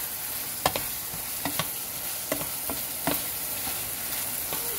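Shrimp frying over high heat in a pan for shrimp and broccoli, a steady bright sizzle with several soft clinks and stirring knocks scattered through it, close and continuous, with no talk.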